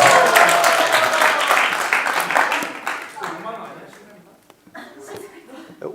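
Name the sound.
audience applause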